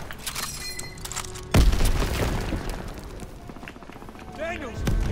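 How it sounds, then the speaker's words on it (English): A grenade explodes in a Call of Duty war campaign, a sudden loud, close blast partway through that cuts across ongoing battlefield gunfire and game noise. "Oh, grenade, nope."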